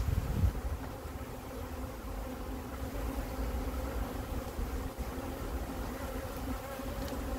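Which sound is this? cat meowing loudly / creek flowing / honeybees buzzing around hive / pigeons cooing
honeybees buzzing around hive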